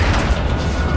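An RPG explosion in the Call of Duty: Modern Warfare 2 campaign mission Kill or Capture, a dense, booming low rumble that fills the whole short moment with no voices over it.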